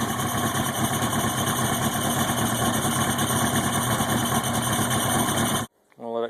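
A rebuilt 2000 Yamaha YZF-R1 motorcycle engine runs steadily and loudly up close with raised revs and a constant whine, then cuts off abruptly near the end, leaving a short quieter tail.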